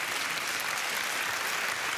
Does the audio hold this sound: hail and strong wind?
no